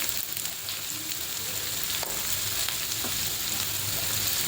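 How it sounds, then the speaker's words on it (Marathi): Thinly sliced potato sautéing in a pan gives a constant bright sizzle, with a few faint stirring taps, and no voices. "बटाटा टाकायचा आहे, बारीक उभा चिरून घेतलाय, चांगला परतून घ्यायचा"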